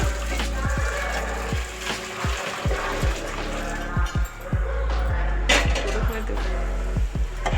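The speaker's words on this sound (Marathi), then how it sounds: "हेच पाणी आपण आता कुकरमध्ये टाकून घेणार आहोत" Hot water is poured from a vessel into a pressure cooker for cooking khapli wheat kheer, giving a continuous splashing gurgle marked by repeated metallic clinks of the pot, close and fairly loud with no speech.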